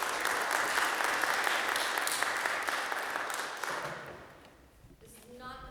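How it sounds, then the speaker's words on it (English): A recital audience applauds a young piano soloist, a full, steady round of clapping that gradually tapers off and then gives way to a quiet room with a brief tonal sound. "we'll give a round of applause to Jackson"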